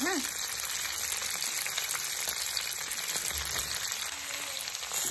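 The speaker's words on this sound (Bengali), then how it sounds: "তেল গরম হয়ে গেছে, এবার আমি এখানে 500 গ্রাম মতো সিম দিয়ে দেবো। সিমগুলোকে আগে ভালো করে ভেজে নেবো একটু।" About 500 grams of flat beans frying in hot oil, a dense steady hiss of sizzling that holds evenly across the whole stretch, fairly close, with no talking.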